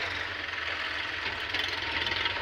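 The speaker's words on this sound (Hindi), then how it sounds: "जेसीबी लोडिंग कर रही है।" A JCB 3DX backhoe loader works outdoors, loading a tractor trolley at a pond-digging site: a steady, heavy diesel drone with a continuous broadband roar and slight surges.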